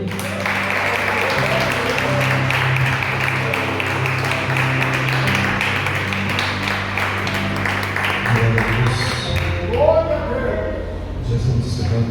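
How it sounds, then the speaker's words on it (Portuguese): Church congregation claps and applauds steadily at the close of a Portuguese-language sermon, a full room of hands heard near and loud throughout, thinning slightly toward the end. "Aplauda o Senhor, amém?"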